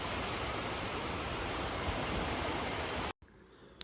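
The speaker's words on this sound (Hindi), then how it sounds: "बहुत ज़ोर से बारिश हो रही है" Heavy rain falls outdoors as a broad, even roar for about three seconds, then cuts off abruptly, leaving a quieter room tone with a faint knock at the end.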